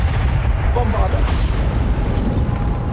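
A Bombarda blasting spell in the video game Hogwarts Legacy sets off a loud, rumbling explosion that roars continuously for several seconds, with a voice briefly audible within the blast.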